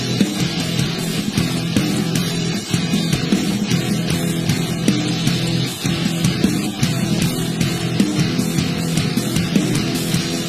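Progressive metal guitar riff from a song demo, dense and steady with a choppy polyrhythmic pulse, playing loud and continuous for about ten seconds with no talking.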